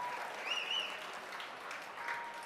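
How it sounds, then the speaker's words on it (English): A live audience at a weed museum talk gives a steady round of applause, moderately distant and fairly faint, with a brief whistle or cheer rising above the clapping. "So let's give him another round of applause."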